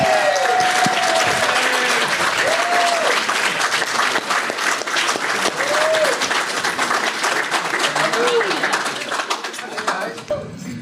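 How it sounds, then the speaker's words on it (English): A comic con panel audience in Buffalo gives long, loud applause for a film team, sustained clapping with whistles and cheers on top, gradually thinning near the end. "Everyone, please give a big round of applause for the Weekend at Bernie's"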